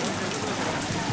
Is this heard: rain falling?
yes